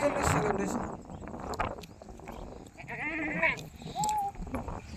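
Goats bleat a few times, wavering cries amid outdoor background noise, with people talking nearby.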